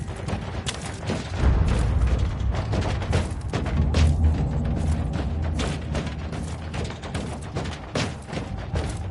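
Weapon being reloaded in a video game, a steady run of mechanical clicks and metallic clatter over dense, booming battle noise, with no talk.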